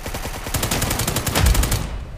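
Rapid automatic gunfire in a desert war shooting video game, a dense steady burst of quick shots with heavy low thumps, running for about two seconds before cutting off.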